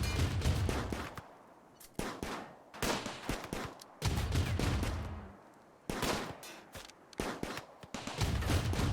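Autocannon fire in the colony game RimWorld, heavy rapid bursts of booming shots repeating in strings with short gaps between volleys, loud and dense throughout.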